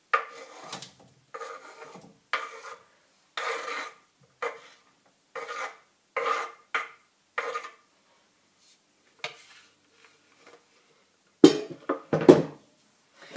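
Vegetables, including leftover charcoal vegetables, scraped and pushed around a frying pan with coconut oil, a series of short rasping, scraping strokes of utensil on pan with brief pauses between them.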